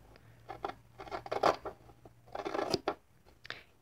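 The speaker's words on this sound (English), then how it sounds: "I'm going to trim this seam to just a bit over 1/8 of an inch." Scissors trim a stitched fabric seam on a rolled-seam heirloom sewing project, giving a quick series of close, crisp snips in two short bursts with no talking.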